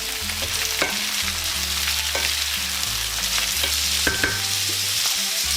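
Sliced peppers with black pepper and salt fry in a pan under a loud constant sizzle while a utensil stirs them, making regular scraping knocks against the pan.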